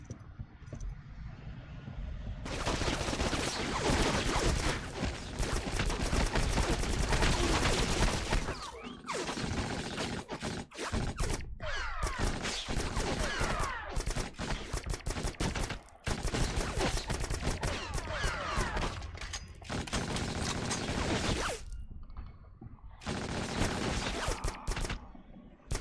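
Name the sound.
gunfire from a weapon in a video game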